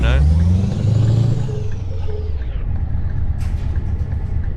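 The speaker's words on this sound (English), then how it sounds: "the sound engine on this truck is actually pretty loud" Loud, close engine drone of a Scania T truck in Euro Truck Simulator 2, with a falling whine as it revs down, settling into a low steady rumble.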